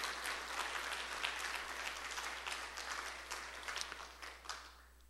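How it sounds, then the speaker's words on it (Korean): Church congregation applauding together during a Sunday service, a steady wash of clapping that holds for several seconds and gradually thins toward the end, heard at a moderate distance. "감사합니다 하고 박수로 표현해 봅시다"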